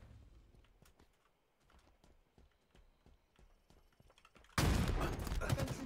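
Video game gunfire: scattered sharp clicks and cracks, then a sudden loud, dense burst of rapid shots that fills the last second or so, close and harsh.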